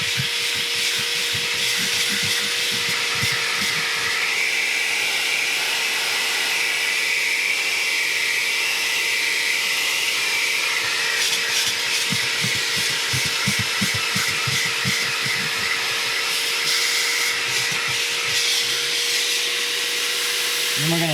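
A Bissell Spot Clean Pro Heat carpet cleaner scrubbing carpet, a continuous loud motor whine and hiss with rhythmic brushing strokes, steady throughout.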